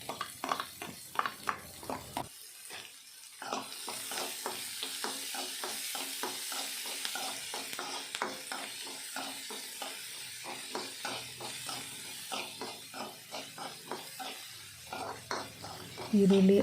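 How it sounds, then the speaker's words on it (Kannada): Chopped onion and green chillies fry in hot oil for an avarekalu sappesaru, a steady sizzle running throughout while a spatula stirs and scrapes the pan in repeated close, rhythmic strokes. "ಈರುಳ್ಳಿ ಹಸಿರು ಮೆಣಸಿನ್ಕಾಯಿನೆಲ್ಲ ಎಣ್ಣೆಯಲ್ಲಿ ಚೆನ್ನಾಗಿ ತಿರುಗಿಸ್ಕೊಂಡು ಫ್ರೈ ಮಾಡಬೇಕು"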